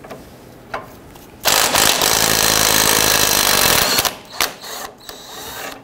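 A loud impact wrench with a 19 millimeter socket loosens a rusted tie rod end nut on a Jeep Wrangler, rattling continuously for a few seconds after a couple of short clicks, followed by brief mechanical knocks and clatter.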